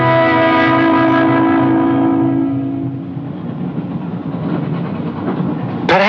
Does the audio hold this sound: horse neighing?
no